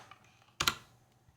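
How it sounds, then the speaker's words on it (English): A short burst of keystrokes on a computer keyboard while typing a command, a quick cluster of close, crisp clicks in a quiet room. "Make sure you click inside the window because it won't let you type otherwise."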